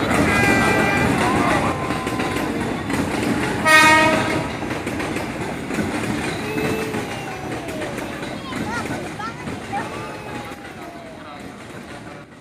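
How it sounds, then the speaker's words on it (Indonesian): A train moves through Jatinegara station in Indonesia, with a horn blast near the middle over rolling rail rumble and wagon noise, while people talk nearby throughout. "jalan tuh kereta itu."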